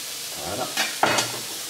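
Pasta and tomatoes with basil are stirred quickly in a hot pan, giving a soft sizzle with two short scraping bursts of stirring, close and moderately loud.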